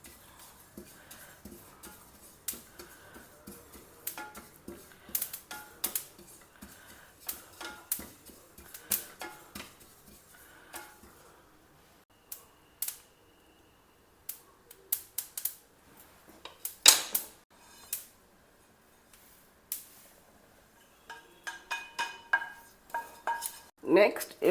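Sesame seeds dry roasting in a pan make soft, faint rattling and scraping, with scattered clinks and stirring clicks of a utensil against the pan coming in uneven bursts over a quiet kitchen.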